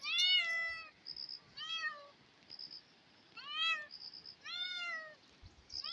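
A cat meows repeatedly on a farm path beside a vegetable field in the hills, four clear, drawn-out calls spaced a second or so apart, nearby and alone over quiet outdoor background with faint bird chirps.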